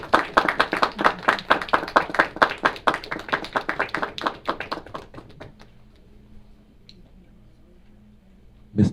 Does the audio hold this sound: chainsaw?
no